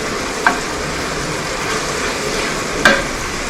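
Frittata ingredients, including bacon, sizzle steadily in a pan, with two sharp scrape clicks of stirring, close and without talk.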